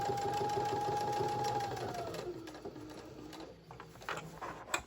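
A sewing machine stitches patchwork tote pieces in a fast, steady whirring run that slows and stops partway, followed by quieter handling noises and a faint knock.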